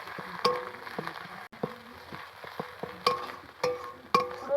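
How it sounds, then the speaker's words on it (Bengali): Garlic and ginger paste frying with onions in a pan, soft sizzling broken by repeated scraping and stirring clinks of a utensil against the pan. "রসুনটা ভালো করে ভাজতে হবে"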